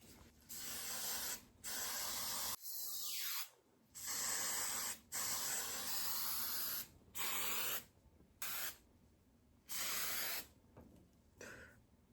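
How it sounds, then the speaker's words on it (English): Hairspray misted onto sectioned hair during a pageant makeup and styling session, heard as a series of close, loud aerosol hisses in repeated bursts of one to two seconds with brief gaps between. "We're gonna divide the hair into pieces and we are going to repeat the same process of the hairspray."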